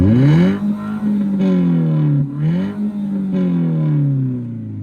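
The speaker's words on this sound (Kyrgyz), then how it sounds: "мынакей азыр холостойдо турган үнүн уга кетсеңиздер болот" A used car bought at a Korean auction runs its engine, heard close and loud through the exhaust as the idle swells into several rising and falling revs, alone without voices.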